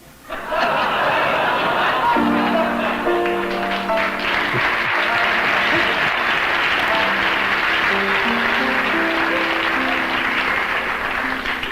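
Recorded applause issued as an album: a thick, sustained roar of crowd clapping with cheers and laughter mixed in, steady and loud throughout, and a voice crossing it at points.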